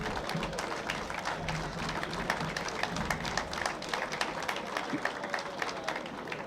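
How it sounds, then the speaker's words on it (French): An outdoor crowd claps at a military ceremony on the National Day of Army Wounded, held on Place de Jaude. The applause is steady, fairly soft and distant, and lasts the whole stretch. "On applaudit aussi Monsieur Frigère"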